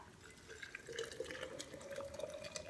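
Hot water pours steadily into a container for a day's batch of tea, a continuous running, rising fill sound like a tap filling a vessel, moderately close and heard alone without speech.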